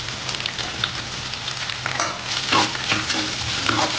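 Ginger, green chilies and sliced onions sizzle and fry in a pan for street-style masala dosa filling, a steady crackling hiss broken by scraping stirs that grow busier midway.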